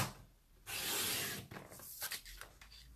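A paper trimmer blade slides across a sheet of paper in a crafting session, a loud continuous rasping cut lasting about a second, followed by lighter scraping and handling noises.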